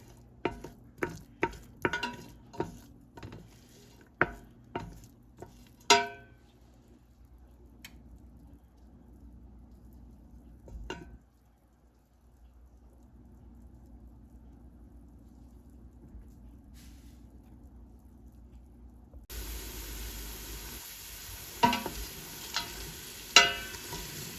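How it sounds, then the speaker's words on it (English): Onions are stirred in oil in a pan for a simple marinara sauce, beginning with a run of sharp spoon scrapes and knocks, then a low, quiet sizzle, and finally louder, busier stirring with occasional clacks. "I'm going to give the onions and the oil a nice stir"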